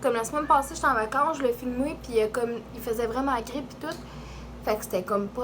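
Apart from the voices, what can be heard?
No distinct noise like a dog, phone or traffic.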